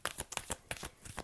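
Tarot cards riffled in several quick bursts, about half a dozen soft papery flutters spaced unevenly, close and quiet with no talking.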